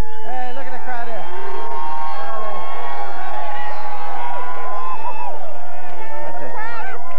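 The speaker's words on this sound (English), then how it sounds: "The crowd is absolutely crazy here." A large outdoor crowd at Fountain Square celebrates the Reds' 1990 World Series win. Voices fill the square in a continuous loud roar, cheering and shouting through the whole stretch, with people talking nearby.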